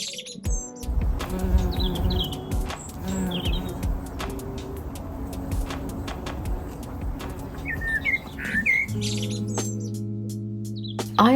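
Insects buzz around a self-seeded Buddleja plant in a small garden in late summer. A steady hum continues throughout, with small birds chirping and tweeting now and then and a low drone in the background.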